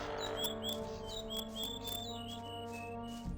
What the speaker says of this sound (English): I really need to find a mod for that bird call, because it sounds terrible with the audio clipping